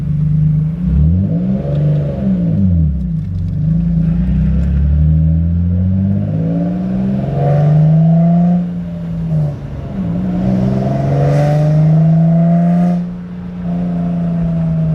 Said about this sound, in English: Like at like quarter throttle, it sounds decent, and then right when you go after that, it gets raspy